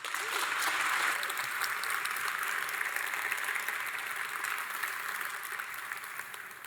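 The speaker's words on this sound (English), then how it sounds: "Let's give him a warm round of applause." Warm round of applause from a PyCon conference audience welcoming a speaker, steady dense clapping across the whole stretch, fairly distant and gradually tapering toward the end.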